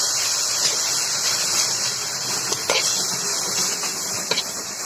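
Washed goat tripe frying in a pan makes a constant loud sizzling hiss up close, with a couple of faint clicks of stirring and no voices.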